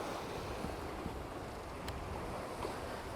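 Ocean waves wash steadily around a sailboat in mid-Atlantic swells of about three metres, a continuous broadband surf rush mixed with wind buffeting the microphone, with no voices.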